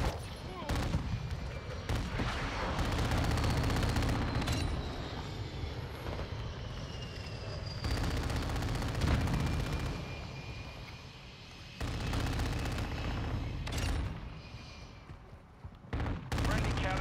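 Gunfire in a shooter video game: bursts of rapid shots come in several loud clusters with short pauses between them, over a droning aircraft-like engine hum.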